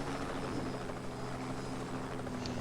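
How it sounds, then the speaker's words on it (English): Helicopters attack during a battle in the video game Just Cause 2, giving a steady, close rotor drone with a constant hum throughout, no talk over it. "I think I'm just defending against helicopters this whole time"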